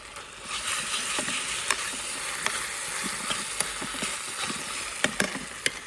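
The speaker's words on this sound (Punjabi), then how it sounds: "ਤੜਕਾ ਸਾਗ ਵਿੱਚ ਪਾਵਾਂਗੇ" A hot tempering is poured into cooked saag (mustard greens) on the stove. It gives a steady, soft sizzling hiss with a few sharp clicks and pops scattered through it.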